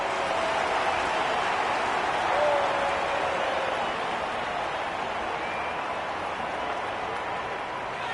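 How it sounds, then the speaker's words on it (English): Stadium crowd in the AFL 26 football video game, a dense, steady roar that stays loud and even throughout, swelling slightly midway, with no clear talk on top. "The crowd noise tells you all you need to know."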